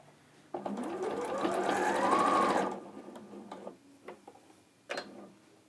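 A sewing machine top-stitches a dressmaking seam in a steady, close whirring run lasting about two seconds, then stops, leaving a few quiet clicks and taps.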